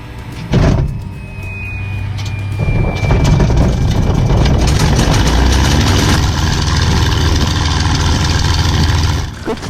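A P-51D Mustang aircraft engine starting up inside the cockpit, a whine and cough giving way to a loud, rough, continuous piston-engine roar that settles into a steady heavy idle.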